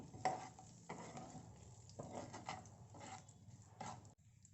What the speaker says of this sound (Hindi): अब इनको मिक्स करेंगे और थोड़ा पका लेंगे।